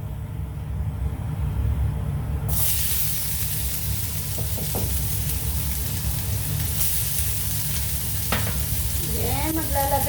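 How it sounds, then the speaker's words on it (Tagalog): Garlic sautéing in hot cooking oil in a pan for mung bean stew, a steady close sizzle with occasional stirring scrapes, loud throughout and without talk. "So, magigisa tayo ng ating bawang."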